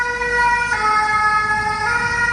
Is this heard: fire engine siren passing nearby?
yes